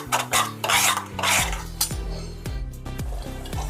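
Schezwan chutney being stirred in a pan until dry, with a spoon scraping and rasping against the metal in repeated strokes, close and moderately loud, with no talking.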